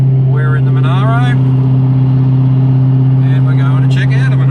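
Holden Monaro engine pulling steadily up the steep Toowoomba range, a constant low droning hum throughout with someone talking over it.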